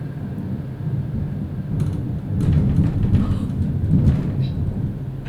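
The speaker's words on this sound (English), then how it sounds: "that is thunder" Thunder rolls through a rainy storm, a loud, continuous low rumble swelling and fading over several seconds against steady rain, with no voices.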